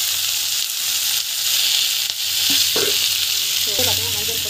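Steady frying sizzle from a pan of sautéing ingredients with turmeric and chili powder, a continuous hissing crackle with a few clinks of a utensil stirring near the end.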